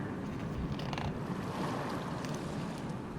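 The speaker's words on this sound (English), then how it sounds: "Oh look, the tide is coming in." Steady rushing wash of ocean waves as the tide comes in, a continuous broadband surf roar with gentle swells and no gaps, fairly loud and close, with no voices over it.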